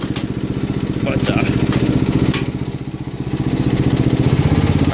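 A John Deere 110 garden tractor engine runs steadily close by on a cold day, a continuous, loud, throbbing idle with a faint swell midway.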